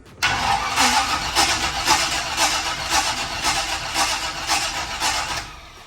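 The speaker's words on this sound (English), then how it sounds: "at least she starts again" A 1968 Chevrolet C10 pickup engine cranks and catches, then runs with a steady, loud, rough idle for several seconds before cutting off. The truck has an exhaust leak at the header, and no one speaks.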